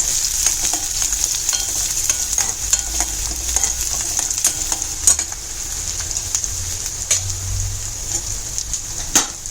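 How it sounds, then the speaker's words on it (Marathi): Onion and garam masala frying in oil, a continuous close sizzle broken by frequent scraping stirs of a utensil against the pan. "कांदा लाल झाल्यानंतर गरम मसाले टाकायचे नाहीतर मग ते ना तेलात जळून जातात"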